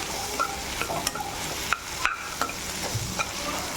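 Boiled peas and potatoes being sautéed in a pan, with soft sizzling under repeated spoon scrapes and light metallic clinks of stirring, close and fairly quiet.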